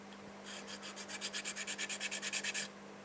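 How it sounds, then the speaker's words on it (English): Close, quiet sanding to smooth small wooden pieces: about a dozen quick, even back-and-forth rasping strokes in a steady rhythm, starting softly and growing firmer, with a low hum underneath. "You want to sand them smooth to make them look nice,"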